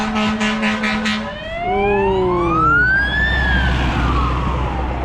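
A police car siren on a busy highway sweeps through rising and falling wails, starting with quick yelps and then long swooping tones over steady traffic rumble, fairly close and loud.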